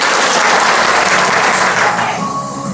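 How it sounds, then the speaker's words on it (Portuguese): A crowd claps in a sustained round of applause during a school training session, dense and steady, tapering off slightly at the end. "Agora sim, uma salva de palmas."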